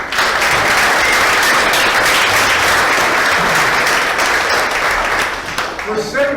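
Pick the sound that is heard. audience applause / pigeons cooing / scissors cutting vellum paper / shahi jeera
audience applause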